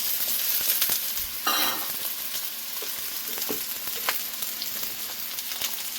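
Green chillies and vegetables fry in a hot pan, giving off a continuous bright sizzle with occasional crackles and stirring clicks, close and moderately loud.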